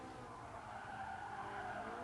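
Rear tires of a race car in GT Sport skid and squeal continuously as the back end slides out under heavy throttle, a steady loud screech over engine drone with no pause.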